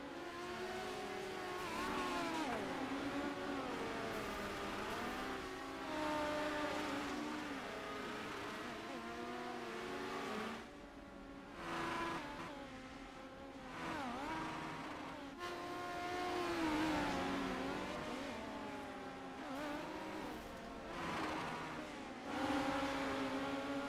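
Dirt midget race cars roar around a dirt oval at the Volusia Nationals, engines revving and rising and falling in pitch as several cars pass in a loud, continuous pack with brief lulls.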